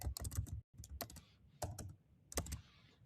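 Rapid bursts of typing on a computer keyboard, entering publishing details for a book footnote, with clusters of close, crisp keystrokes separated by short pauses.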